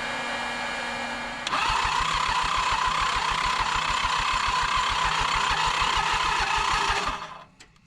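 A worn diesel lawn mower engine with severe blow-by and low compression catches after a starter whir and runs with a loud, rapid, uneven knocking chug, then cuts out and winds down to silence.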